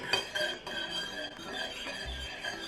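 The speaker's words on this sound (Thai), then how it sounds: "ไฟอ่อน ๆ คนให้เกลือละลาย แล้วแป้ง ก็อย่าให้นองก้นนะคะ คนตลอด" A spoon stirs and clinks against a pot of Thai corn pudding batter of flour, salt and coconut milk over a low gas flame, with steady close scraping and metallic taps and no talk.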